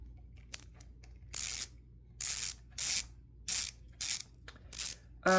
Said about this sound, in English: Take your wheel nut and tighten that back on there.